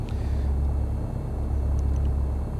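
Light aircraft engine held at about 1000 RPM with parking brakes set, in the X-Plane flight simulator: a steady, loud, low droning rumble throughout, no voices.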